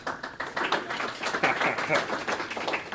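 An audience applauds at a Drupal conference talk as the Lullabot CEO is welcomed on stage, with steady, dense clapping from a fairly close crowd that fills the moment.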